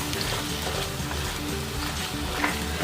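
Beans and small potato pieces fry and get mixed in a pan for vegetable kurma, a dense continuous sizzle with soft stirring clatter throughout and a slightly louder scrape at the end.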